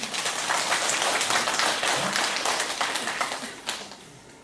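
A church congregation applauding during a service, a dense, steady round of clapping from many hands in a large room that tapers off toward the end; no talk over it.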